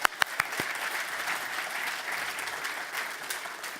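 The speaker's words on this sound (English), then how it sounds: "So a round of applause for the filmmakers" A crowd at the Someday Awards 2017 in New Zealand applauds the filmmakers: a few sharp nearby claps open into steady, dense clapping from many hands that carries on evenly, with no talking.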